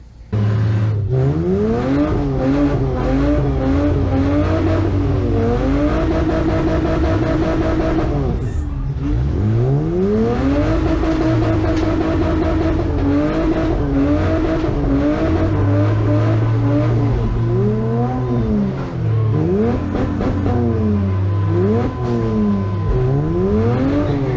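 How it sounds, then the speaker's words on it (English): A race car engine screams against the rev limiter continuously with the pedal floored, pitch bouncing up and down, with a sustained tire squeal as a wheel spins and smokes in place, loud and close throughout. "I just laid the pedal to the floor and was smoking that wheel inside the tire."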